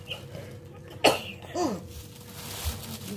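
A single sharp, close cough from a person bursts out abruptly, followed by a brief throaty voiced sound, against a quiet indoor background with faint low hum.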